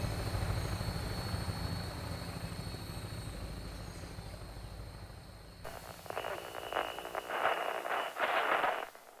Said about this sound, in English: the sound of a vertibird taking off broke the calm of the late morning